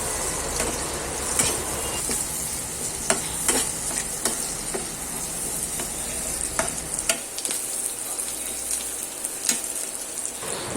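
Onion, green chili and garlic fry in a pan for a tomato chutney, giving a steady close sizzle with scattered pops and occasional stirring scrapes. The sizzle eases near the end, and no one speaks.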